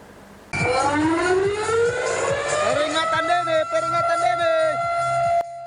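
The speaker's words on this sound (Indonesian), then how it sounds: "otoritas terkait membunyikan sirine peringatan tsunami" A tsunami warning siren sounds after an earthquake near Mindanao, Philippines, with a loud wailing tone that rises and then holds, close and continuous, over a rhythmic low pulsing.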